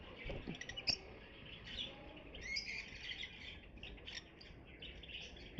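A breeder pair of lovebirds, one a lutino, chirps softly in a cage holding fertile eggs. Scattered high tweets and short calls come from close by at low volume, with no talking.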